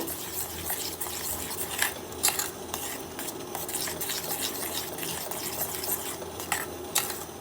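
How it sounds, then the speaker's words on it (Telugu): A spoon stirs a thick homemade beetroot soap mixture in a pot, with steady scraping and swishing and a few sharper knocks against the pot's sides. "వేసి ఇంకోసారి చాలా బాగా మిక్స్ చేయండి."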